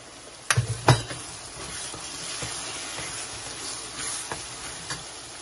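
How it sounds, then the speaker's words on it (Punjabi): Spices for aloo gajar matar frying and being stirred in a pan, with a couple of sharp clinks of the spoon against the pan near the start, then a steady soft sizzle with occasional light scrapes. "ਮਸਾਲਾ ਭੁੱਜ ਗਿਆ ਹੈ"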